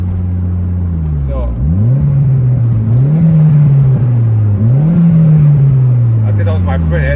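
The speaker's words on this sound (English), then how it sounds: "Like I said, it's got a small turbo." A small-turbo LS-engined car revs hard close by, its engine note climbing in three or four surging pulls with brief dips between shifts, loud and continuous, with faint whooshing turbo noise; a voice talks briefly over it.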